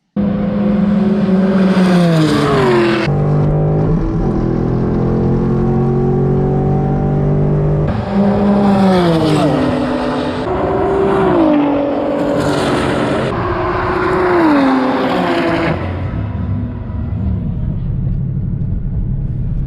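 A modified car racing around Pocono Raceway, its engine loud and close throughout, repeatedly revving up through gears with rising pitch sweeps and shifts, steady rumble under continuous acceleration.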